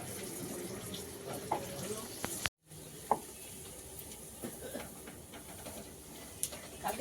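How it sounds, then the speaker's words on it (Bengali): Kachori and luchi deep-frying in hot oil for a peas kachori and white potato curry meal, a steady close sizzle and bubbling running throughout with a brief dropout, light clatter and some talk in the background. "লুচিগুলো এখানে কচুরিগুলো এখানে ভেজে রাখা হচ্ছে"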